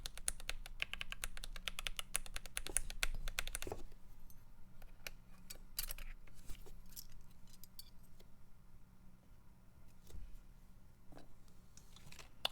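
Mechanical keyboard typing on a Keychron Q1 or GMMK Pro with purple panda switches: a dense, rapid burst of clacky keystrokes for the first few seconds, then sparser scattered clicks over a steady low background hum.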